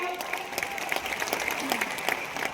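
At an MI Lifestyle event in Gandhinagar's Mahatma Mandir, an audience claps for the management, a brief burst of continuous moderately loud applause from a large crowd.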